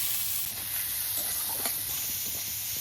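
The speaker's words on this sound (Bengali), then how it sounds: "পেঁয়াজটা একদম হালকা করে ভেজে নিয়েছি" Chopped onion fries in mustard oil with a constant, soft hiss of sizzling and a few faint stirring scrapes, close but quiet.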